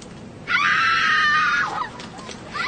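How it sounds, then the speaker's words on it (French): A loud sound-effect scream bursts in abruptly and holds a sustained, shrill cry for over a second before trailing off, followed by a short lull and the start of another cry at the end. "Il me faut des cris"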